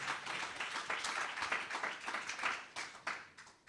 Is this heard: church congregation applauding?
yes